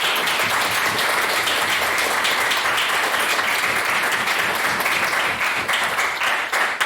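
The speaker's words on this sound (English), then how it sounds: "ask for another round of applause" Applause rolls through a debate audience after a speech, a thick continuous patter of many hands clapping at steady volume, easing slightly toward the end.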